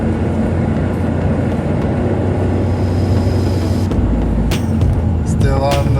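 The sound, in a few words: car with 1.6 liter engine revving high in third gear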